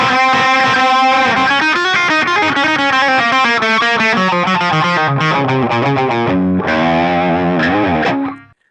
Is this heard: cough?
no